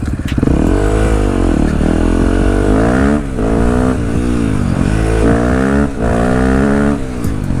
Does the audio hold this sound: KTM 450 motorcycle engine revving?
yes